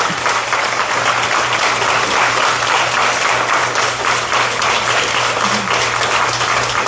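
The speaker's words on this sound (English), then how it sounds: "let's give the candidates a round of applause for being here with us tonight" A candidates forum audience gives a steady round of applause for the candidates, a dense even clapping that holds at full strength for several seconds, with a low constant hum from the room beneath it.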